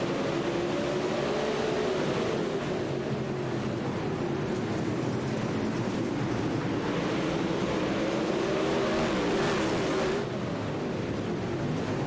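Dirt late model race cars at speed on the Lernerville dirt track during an SLM Dirt Series feature, a steady loud roar of engines droning and shifting pitch throughout, close and continuous with no talk.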